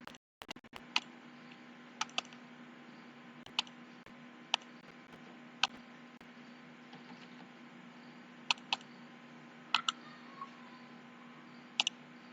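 Scattered, isolated key presses on a computer keyboard while values are entered, sparse clicks spaced a second or more apart over a steady low hum in a quiet room.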